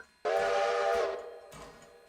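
A steam locomotive whistle in the Railroader game gives one loud, sustained blast, then cuts off and trails away, followed by faint mechanical clicks.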